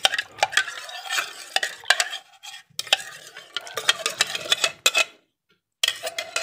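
A spoon stirs a coconut milk mixture for Javanese apem in a pot, making bursts of quick scraping and clinking strokes with brief silent pauses between them.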